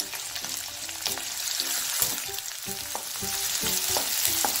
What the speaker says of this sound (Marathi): आता आपण लसूण फ्राय करून घेऊया। लगेच मिरची, लगेच शिमला मिर्च टाकून घेऊया।